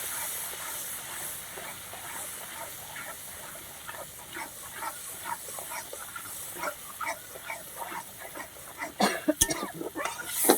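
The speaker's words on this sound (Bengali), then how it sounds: "এবার আমি মশলাটা ভালো করে ভেজে দিচ্ছি" Spice paste frying in a pan for a Bengali Chandani Ilish dish, with a steady sizzling hiss and scattered crackles and spits that grow louder and busier toward the end.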